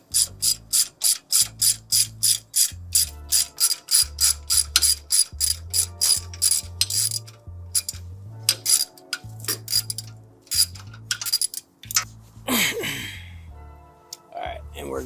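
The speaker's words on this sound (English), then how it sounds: "now it's safe to go through and tighten them down with the socket" Socket ratchet tightening suspension bolts during a lift install on a 2023 Chevrolet Silverado ZR2, a long run of rapid, evenly spaced clicking bursts, close and fairly loud, with strokes breaking up and louder metallic clanks near the end.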